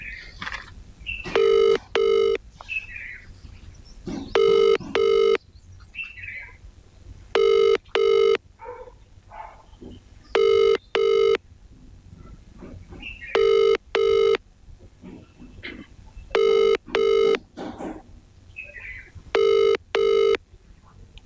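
A telephone rings unanswered in a Ludhiana factory setting, its paired electronic ring bursts repeating about six times at steady intervals, with quiet background voices and room noise between rings.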